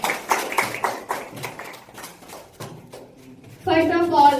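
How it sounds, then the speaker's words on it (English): A school audience claps for a student at a speaking competition, a string of distinct, separate claps spaced out and then thinning, before a voice begins talking at the end. "Please Taranum come out and clap for Taranum."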